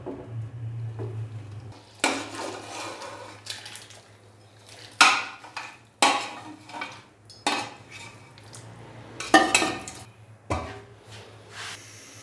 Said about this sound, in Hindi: तो अभी मैं इसको कढ़ाई के अंदर ट्रांसफ़र करूंगा